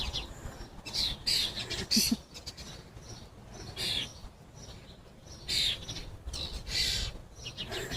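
Crows squawking and calling in repeated harsh bursts while being fed outdoors, close by with quieter gaps of ambient noise between calls.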